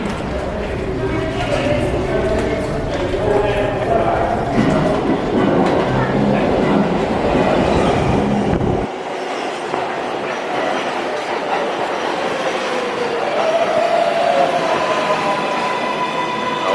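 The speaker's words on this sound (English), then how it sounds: "we are here to switch to the subway, specifically the 4 or 5 train." A New York City subway train (4 or 5 line) rumbles loudly with a steady roar of wheels on rails, the low rumble dropping away midway while screeching, clattering car noise continues.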